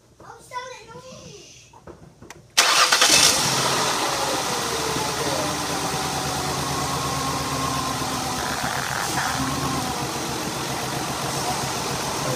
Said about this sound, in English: plug them back in, and then start the engine.